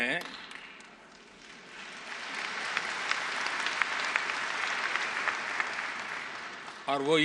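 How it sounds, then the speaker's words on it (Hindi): Audience applause at a political speech, a dense sustained clapping from a large crowd that swells after a quiet start, holds steady and loud, then breaks off as a voice resumes speaking. "लेकिन अब ज्यादा ताली एक और बात पर आपको बजानी पड़ेगी"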